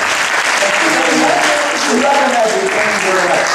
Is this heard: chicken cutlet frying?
no